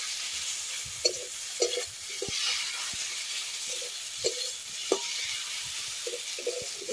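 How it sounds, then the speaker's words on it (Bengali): Masala paste for a kuche fish korma being stirred and fried in oil, a soft steady sizzle under repeated scraping knocks of a spoon against the pan. "এইভাবে আমি নেড়ে নেড়ে পুরো মশলাটাকে কষিয়ে নেবো যতক্ষণ না তেল ছেড়ে যায়"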